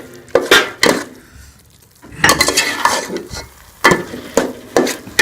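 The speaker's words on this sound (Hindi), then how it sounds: "डाल के इसको अच्छी तरह से मिक्स कर लेंगे।" A spoon stirs grated carrot halwa in a pan in loud, close bursts of scraping and clinking, separated by short quiet pauses, with a soft cooking hiss underneath.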